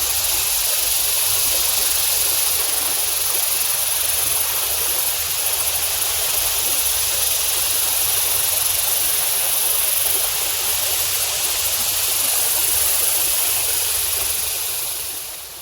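Steady broadband rush of the La Chueca river flowing in Santiago, Nuevo León, continuous and fairly loud with no breaks, heard alone without voices.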